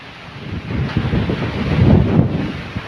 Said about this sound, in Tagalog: Grabe, lakas ng hangin guys.